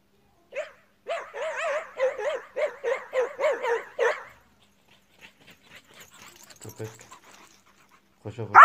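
A hunting dog gives a rapid series of yelping barks in a steady rhythm while facing a young wolf, then quieter panting and shuffling follow, with a short voice at the end.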